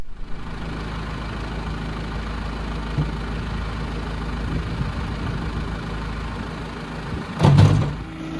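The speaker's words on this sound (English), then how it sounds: "Come on, you ride on the tractor." A tractor engine idles nearby with a steady, low, even rumble, and a brief louder knock comes near the end.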